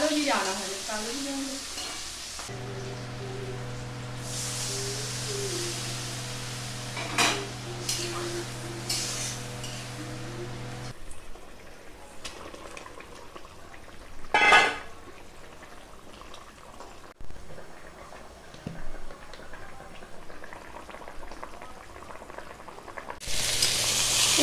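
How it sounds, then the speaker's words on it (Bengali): Bhotkochu taro and potatoes frying in hot oil make a steady sizzle throughout, with occasional clatters of a utensil against the pan and brief louder bursts. "এটা ভোটকচু আলু ভাজা হচ্ছে, ভেজে নিয়ে তারপরে তরকারি করব"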